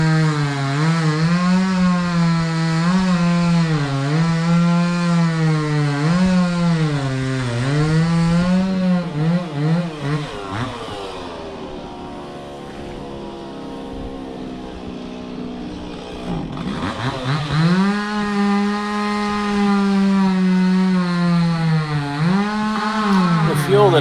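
Stihl 026 chainsaw cutting through a fairly large pecan trunk in snow, its engine loud and close, bogging and revving in the cut, easing to a lower idle midway, then biting back in at full throttle.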